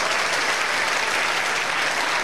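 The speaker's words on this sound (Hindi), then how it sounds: "चलिए खड़ा हो जाइए, ताली बजाइए इस बच्ची के लिए।" Students in a classroom applauding a girl, a sustained burst of dense, steady clapping from many hands, loud and close, with no voices over it.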